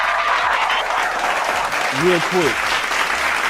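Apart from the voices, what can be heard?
audience clapping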